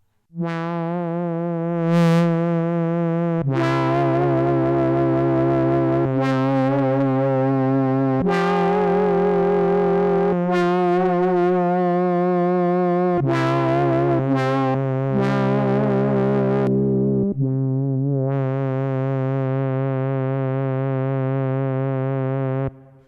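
A buzzy synthesizer with hard-clip distortion playing sustained notes that shift pitch every few seconds, loud and gritty with a harsh clipped edge, no voices.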